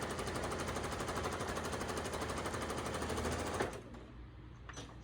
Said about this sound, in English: We'll just sew one little top stitch to close that down.